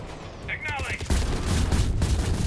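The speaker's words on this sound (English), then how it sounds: "I'm all for a good explosion, but this is getting excessive." Dense explosions and gunfire from Mass Effect 3 roar loud and continuous, with a brief electronic warble, then a heavy blast that thickens into a sustained rumbling barrage.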